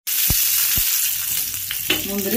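Raisins fry in ghee in a pan for a beef stew. The loud, continuous sizzle is close by, broken by a few sharp taps and stirring sounds near the end.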